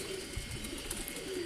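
A white-feathered pigeon coos softly and steadily in a low, continuous murmur, with faint background noise and no other clear sounds.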